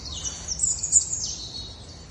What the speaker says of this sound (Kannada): ಹಕ್ಕಿಗಳ ಸದ್ದು